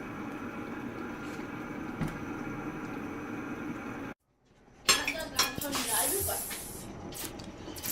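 Palm oil heating in a covered pot for ayamase (ofada stew) gives a steady sizzling hiss, then a short silence, then louder crackles and clinks of metal on the pot.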